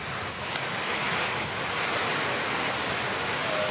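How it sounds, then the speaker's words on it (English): Strong wind roars steadily across the microphone at Point Impossible surf break, a dense broadband rush with surf noise blended underneath, continuous and loud for the whole stretch with no voices. "There's a lot of wind on that."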